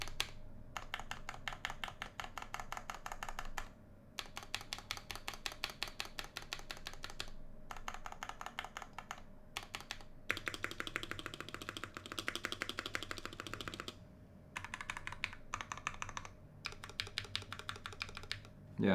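Fast typing bursts rattle on a KBDFans Tofu 60 gasket-mount keyboard with Gateron Yellow switches, dense rapid keystrokes broken by short pauses, close and moderately quiet.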